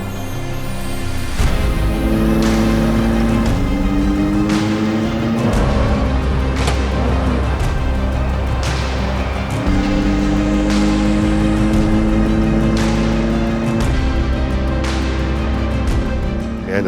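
A SPORTEC SUB1000 Porsche backdate race car drives past with a loud engine, its tone climbing through repeated gear changes and throttle pulls, close and without talk.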